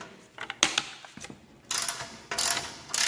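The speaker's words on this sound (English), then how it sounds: "which is why I went with the 3/8 ratchet" A 3/8-inch ratchet works bolts loose on a Toro engine being taken apart, giving short bursts of clicking and clattering metal with pauses between strokes, close up with no talking.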